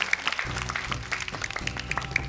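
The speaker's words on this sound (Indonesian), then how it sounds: "Tepuk tangan dong untuk Babe tuh." Studio audience applause on an Indonesian Quran memorization TV competition, moderate and steady with scattered sharp claps over low background tones, lasting a couple of seconds.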